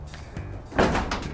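Back doors of a 2012 Chevy Express 3500 extended cargo van, a one-ton model with a 6.0L engine, are opened: a soft latch click, then a louder metallic clunk and rattle as the doors swing, fairly close.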